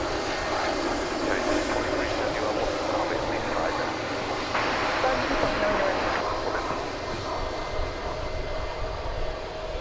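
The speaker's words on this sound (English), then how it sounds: "It's an Airbus A320." A 17-year-old United Airbus A320 jet in older livery at DFW Airport, bound for San Francisco, gives off a loud, steady engine roar that fills the whole stretch without a break.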